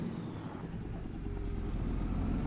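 A heavy tractor engine in Farming Simulator 22, a Fendt 728 Gen 7 or New Holland T7 340 HD, drones in a deep, steady, booming rumble that swells slightly toward the end.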